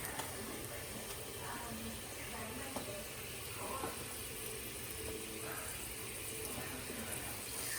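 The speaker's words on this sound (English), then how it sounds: "but as you can see, it's bubbling." Pieces of chicken fry in a pot of oil for Jamaican-style fried chicken, giving a steady close hiss and crackle of bubbling fat that runs evenly throughout.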